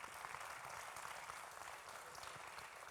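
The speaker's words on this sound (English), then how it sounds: "Give him a round of applause." Dense, continuous applause fills a hall at a youth summit, a steady wash of many hands clapping with no voices above it.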